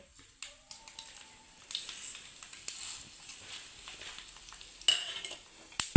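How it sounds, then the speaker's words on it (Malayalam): Mustard seeds splutter in hot oil with urad dal and dried chillies, crackling and popping in scattered bursts with occasional utensil clinks and stirring, fairly close and without speech. "ഉഴുന്ന്, ഉണക്കമുളക്, കരിവേപ്പില, കടുക് ഇട്ടു. കടുക് പിന്നെ കടുക് പൊട്ടാനായി."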